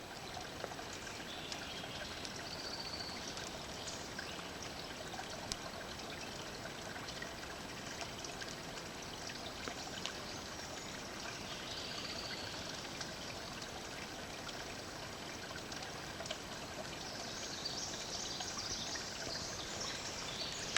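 An outdoor stream flows steadily in a continuous, soft wash of trickling water, even and unbroken throughout with no voices.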